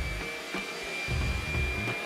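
A vacuum cleaner with a hose attached, used for cleaning an ETC dimmer rack, runs with a steady whining roar and a high tonal hum, its low airflow surging slightly partway through.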